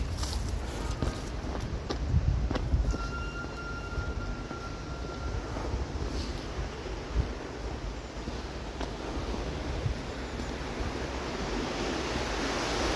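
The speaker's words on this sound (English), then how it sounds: "it looks like they've just opened it to allow some water through" Continuous rushing roar of water released through a newly opened channel, heavy and low, with wind buffeting the microphone and a few faint knocks; no speech.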